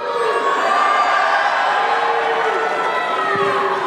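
Large crowd at a New York boxing press conference cheering for Ryan Garcia ahead of his fight with Rolly Romero, a steady, dense roar of voices and shouts sustained throughout at high volume.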